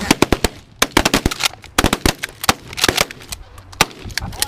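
Shotgun blasts during a late-season goose hunt in Wisconsin, a rapid volley of loud, close sharp shots fired at incoming geese, coming in quick clusters with brief gaps throughout.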